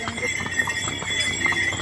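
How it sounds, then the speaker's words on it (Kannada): A large horse walks with steady clip-clopping hooves at close range, in cold weather after a little rain, while a voice talks faintly in the background. "ಕುದುರೆ ಮಾತ್ರ ಚೆನ್ನಾಗಿ ಸಿಕ್ಕಿದೆ ನನಗೆ. ಫುಲ್ ದೊಡ್ಡ ಕುದುರೆ"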